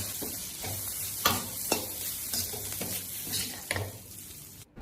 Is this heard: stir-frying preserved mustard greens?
yes